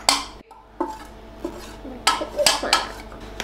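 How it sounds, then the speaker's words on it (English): Flour being stirred into butter and sugar in a bowl, a series of close clinking and scraping strokes of a utensil against the bowl, irregular and fairly loud with no voices. "Now we're going to put the flour in with the butter and sugar. Now we're going to stir it."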